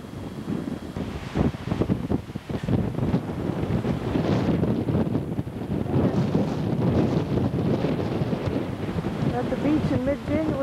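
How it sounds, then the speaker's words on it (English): Strong wind buffets the microphone on a boardwalk at a Port Hood, Nova Scotia beach in mid-January, a loud, continuous roaring rumble with surging gusts and surf beneath. "It's warm but windy."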